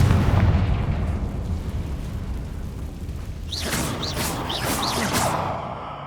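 In Hogwarts Legacy, a Confringo spell bursts into a loud, sustained fiery explosion with a roaring, crackling rumble that decays slowly, followed by whooshing, chirping magical flourishes.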